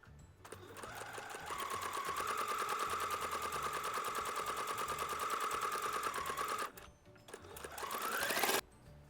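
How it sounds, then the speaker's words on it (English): A sewing machine stitches quilt squares together at a quarter-inch seam, a close, steady, rapid mechanical whir running continuously for several seconds, then stopping briefly before a short rising restart. "Now I'm ready to sew up my quilt."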